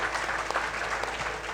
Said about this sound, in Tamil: எல்லோரும் நல்லா கைத்தட்டுங்க